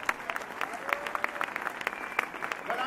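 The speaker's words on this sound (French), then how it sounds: "On les applaudit, merci à eux." A crowd claps steadily at a civic ceremony, moderately loud and close, the applause sustained throughout with no one speaking over it.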